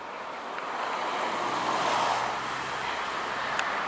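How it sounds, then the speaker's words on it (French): Roadside traffic noise heard from a spot near a railway line, a steady broadband rush of passing cars swelling and easing, with no voices. "t'as les voitures qui font du bruit"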